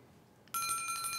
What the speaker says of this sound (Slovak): Zvoní, Ježiško došiel.